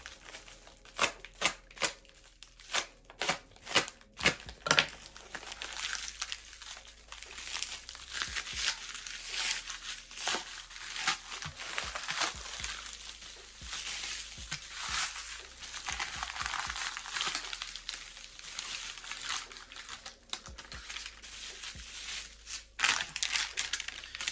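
Plastic parcel packaging from a lost postal parcel crinkles and rustles as it is handled and opened, a series of close, sharp crackling bursts at uneven intervals with short quieter pauses between.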